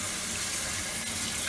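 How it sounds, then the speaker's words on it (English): A sink tap runs steadily, a continuous close hiss of flowing water splashing into the basin, with no voices over it. "I'm gonna turn your water on too"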